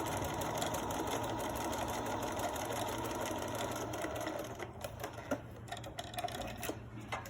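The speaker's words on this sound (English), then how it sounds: "So I'm going to simply turn the mask around and stitch back down this side." A sewing machine runs steadily as it stitches down the side of a fabric face mask, a continuous close whirring that eases after about four seconds into quieter, uneven bursts and clicks.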